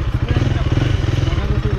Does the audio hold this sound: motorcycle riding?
yes